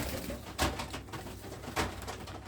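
Pigeons of several breeds, including a black Cheena and a Chap Kareshu, coo in a loft, with two louder soft coos standing out over a steady low murmur of birds close by.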